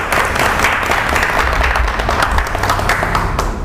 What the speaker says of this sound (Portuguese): Obrigado, viu, pelo carinho de vocês, pelos aplausos